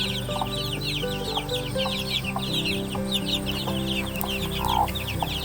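One-month-old Betong chicks, raised free-range without vaccines, cheep and peep in a busy chorus of rapid high chirps over soft clucking, close up and continuous, with occasional louder calls.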